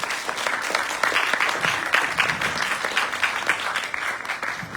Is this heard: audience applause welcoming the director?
yes